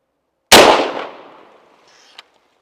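A single sharp shot from a homemade blaster cracks loudly and close, its noisy burst fading over about a second, followed by a faint brief metallic tick.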